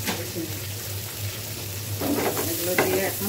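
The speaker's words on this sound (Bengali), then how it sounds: "হালকা একটা ভাজা দিব, জাস্ট 1-2 মিনিট।" Tomatoes, capsicum and chopped green chillies stir-fried in a pan, a steady low sizzle that turns busier after a couple of seconds as the spatula scrapes and tosses the vegetables, with close, clattering strokes near the end.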